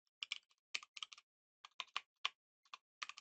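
Keystrokes on a computer keyboard typed in short irregular bursts with brief pauses, close and clear, no voices.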